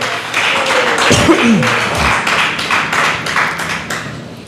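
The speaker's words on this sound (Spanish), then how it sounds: "Aplauden al Señor con alegría" A church congregation claps together in a steady rhythmic beat, fairly close and lively, with a brief thud partway through and a little voice underneath.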